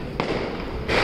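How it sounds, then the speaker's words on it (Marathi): Diwali firecrackers bursting outdoors, two sharp cracks about a second apart over a steady background hiss, moderately loud and without speech. "मग म्हटलं चला आता फटाके वाजवूया."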